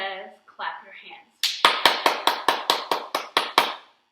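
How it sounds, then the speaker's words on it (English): Hands clapping in a preschool yoga session, about ten crisp, evenly spaced claps close by, following a brief spoken line. "Simon says, clap your hands"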